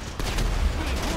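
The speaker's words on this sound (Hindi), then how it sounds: "तोप है भाई, तोप है।" A cannon fires in the video game GTA V, a loud booming blast with a heavy low rumble that carries on for about a second.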